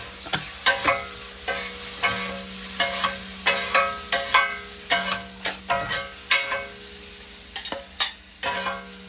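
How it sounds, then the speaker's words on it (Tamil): Kothu roti ingredients, with egg and onion, are stirred and tossed in a pan in repeated rhythmic scraping, clattering strokes over a soft, continuous sizzle. "இப்போ வந்து எல்லாத்தையும் மிக்ஸ் பண்ணி விடுவோம்"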